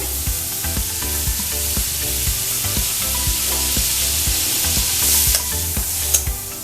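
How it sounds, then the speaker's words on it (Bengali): Butter sizzling in a kadai on the stove, a steady close hiss with repeated scraping clicks of a spoon stirring through it, no talking. "আমি একটা মানে কড়াই বসিয়ে দিয়েছি এখানে আমি দিয়ে দেবো এক চামচ বাটার"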